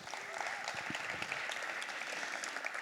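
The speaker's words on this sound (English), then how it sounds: "Please clap it up for yourselves for being here." Audience applause at a songwriter summit, a sustained wash of clapping with individual claps popping out, fairly distant and even.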